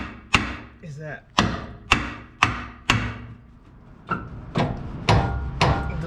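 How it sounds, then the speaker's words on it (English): A big hammer repeatedly bangs on old suspension parts of a 1970 Chevelle SS during teardown: about ten sharp, loud metallic blows at an uneven rhythm, close up. "The big hammer is your best friend working on old cars."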